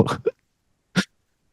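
A short burst of a person's sneeze, a quick two-part blast, followed after a pause by another brief sharp vocal burst.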